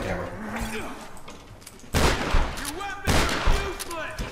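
Tomb Raider 2013 gunfire erupts in two loud, dense volleys of shots and booms, close and sharp, while a voice talks over the quieter stretches between them.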